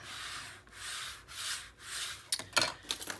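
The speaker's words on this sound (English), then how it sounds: "I'm going to burnish this up in here" A surface is burnished by hand with rhythmic back-and-forth rubbing strokes. Four even passes are followed by a few quicker, sharper scrapes, close and quiet with no voices.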